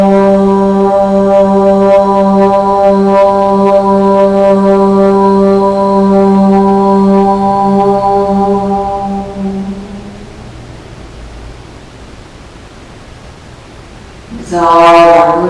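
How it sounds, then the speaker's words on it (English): A single long Om is chanted to open a chakra yoga practice, a steady resonant vocal drone held for about ten seconds that fades into quiet room tone, followed by a short burst of noise at the end. "we open with a sound of Om"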